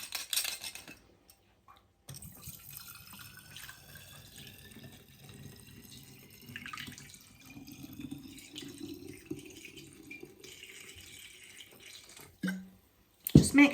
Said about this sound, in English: we're going to pour the vodka in.